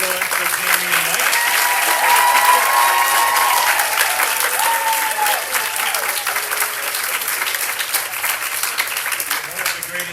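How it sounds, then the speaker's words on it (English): Dinner guests at a senior athletics farewell event keep up loud continuous applause for about ten seconds, many hands clapping at once with crowd voices and faint tonal cheers mixed in. "A quick round of applause again. Keep it going for Jamie and Mike."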